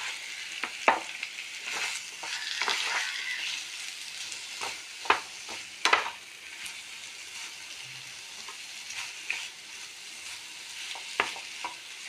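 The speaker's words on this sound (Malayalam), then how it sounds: "അതിൽ കുറച്ച് ഒരു അര സ്പൂൺ ഇത് കായത്തിൻ്റെ പൊടി ഇടാം ഒന്ന് ഇളക്കി കൊടുക്കാം" A potato curry with asafoetida powder gets stirred in a pan, giving a soft, steady sizzle with sharp scrapes and taps of the spoon at irregular intervals, close and with no voices.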